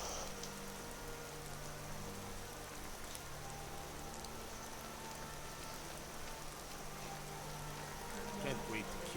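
Rain falling in a fantasy role-playing video game, a soft steady patter and hiss spread evenly throughout, with faint low hum beneath.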